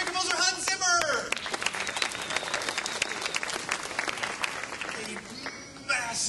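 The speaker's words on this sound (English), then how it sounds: "A massive torrent of applause from the press." A press audience applauds at a film press conference for the cast and crew of Man of Steel. Loud, sustained clapping fills the whole stretch, with voices audible briefly at the start.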